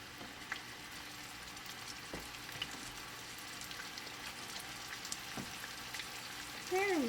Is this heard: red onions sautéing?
yes